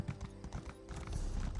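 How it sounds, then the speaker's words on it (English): Horse hooves clip-clopping in the video game Elder Scrolls Online (ESO), a quick steady trot of close, hollow beats carrying on without pause over low game ambience. "Look at my horse. My horse is amazing."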